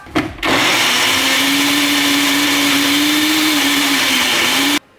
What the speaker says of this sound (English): Blender on up.